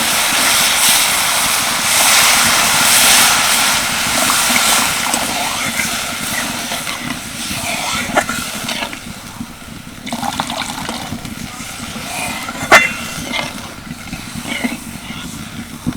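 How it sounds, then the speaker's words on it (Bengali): Water poured into a pan of fried spice masala gives a broad rushing, hissing wash that gradually eases, with a few clinks near the end and no talk. "এবার আমি দিয়ে দেবো জল"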